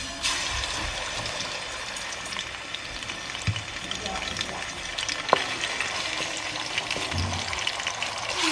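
Ginger garlic paste frying in hot oil for chicken keema, giving a steady broadband sizzle with occasional stirring clicks and scrapes throughout.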